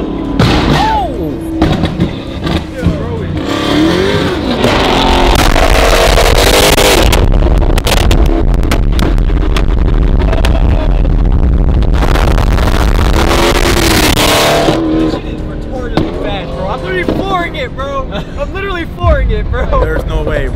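Flame-tuned Dodge Hellcat Redeye supercharged engine roaring at full throttle, loud and sustained with pops and booming bursts, under excited shouting voices throughout.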